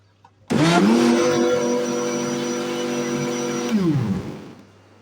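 A blender whirs loudly at high speed for a few seconds, mixing oil and coconut, its motor pitch rising at start and winding down at the end.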